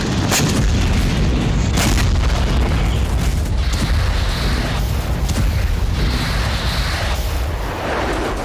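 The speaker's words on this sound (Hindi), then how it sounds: "रूस ने फैब एरियल बमों से हमला किया।" Russian FAB aerial bombs exploding in the Russia-Ukraine war, a continuous loud barrage of deep booms and blasts rolling one after another for the full stretch with no pause.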